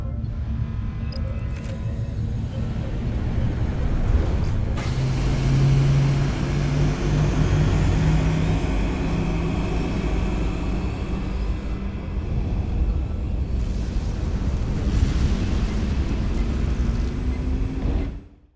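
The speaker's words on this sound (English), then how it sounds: "Resolute to Shuttlecraft Melville. You're cleared for takeoff." Shuttlecraft Melville lifting off in the Star Trek: Resurgence video game, a sustained, loud engine roar and whoosh that swells and shifts in pitch midway, then holds steady before cutting off abruptly.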